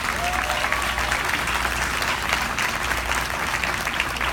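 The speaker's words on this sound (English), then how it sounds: "Everyone, please give a round of applause for Cathay." A crowd at a Making Strides charity event applauds a nurse navigator, a dense, steady wash of clapping that stays loud and even from start to finish.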